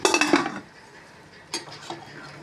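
Curry of goat brain and head meat stirred in a cooking pot: a burst of loud metallic scraping and clinks for about half a second, then quiet with a couple of fainter scrapes later.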